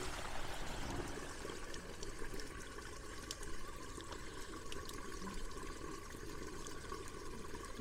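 Water rushing steadily through an opened RV holding tank valve during a back flush, a constant soft gurgling pour with no talking.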